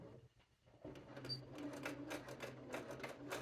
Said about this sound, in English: you want to sew just a couple millimeters away from that line that you just did through the seam allowances and into the facing